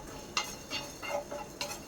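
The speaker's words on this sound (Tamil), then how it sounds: "எண்ணெய் இல்லாமல் மல்லியை வறுத்துருவோம்." Dry coriander seeds crackle and rattle in a hot pan without oil, with a few short scraping stirs and faint light sizzling, close by.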